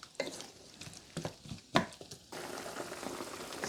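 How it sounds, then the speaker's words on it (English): A pot of beetroot and shrimp comes to a boil, giving soft bubbling and sputtering with a few sharp pops, faint and close in a quiet kitchen. "Allow this to come to a boil."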